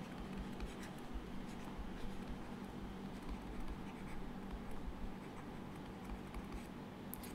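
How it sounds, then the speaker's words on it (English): Chalk or marker writing on a board during a physics lecture on quantum field theory, a faint continuous scratchy patter of strokes against a steady room hum, with no talking. "let me write it down anyway"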